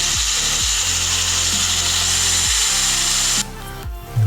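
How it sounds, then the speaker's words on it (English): A power drill bores holes through a copper assembly with a backer board beneath it, its motor whining steadily with several repeated spin-ups, close and loud, before stopping near the end. "Now I can drill."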